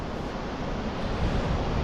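Creek water swollen well above its usual level rushes over and splits around rocks, a steady loud broadband wash with no break for the whole stretch.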